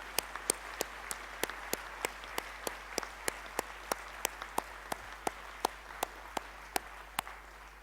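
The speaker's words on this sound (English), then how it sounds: "could we give them another round of applause?" Sparse, evenly spaced claps ring out in a steady rhythm over a quiet room at an academic talk, sounding like a few people clapping rather than a full audience.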